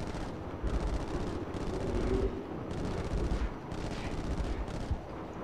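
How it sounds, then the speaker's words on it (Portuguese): Bazooka fire and explosions in the PS2 shooter Black, a series of heavy booming blasts and gunfire bursts in rapid succession with a rumbling low end, fairly loud and without talk. "Tem alguém dando um tiro de bazuca em mim que eu não sei onde é que tá."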